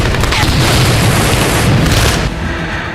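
Loud, continuous booming explosions from bombardment in a war zone in Ukraine, heavy blasts rumbling together without a break and easing slightly near the end.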